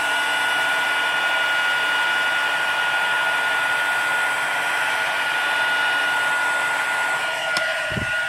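A heat tool blows steadily while melting clear embossing powder for card stamping, a constant close whirring hum with a high whine, ending with a brief click and thump.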